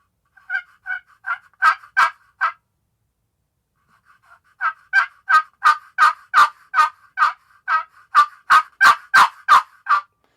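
Turkey yelps and clucks made on a catalpa wood turkey call, a run of five sharp calls, a pause, then a longer series of about fifteen evenly spaced loud, close yelps.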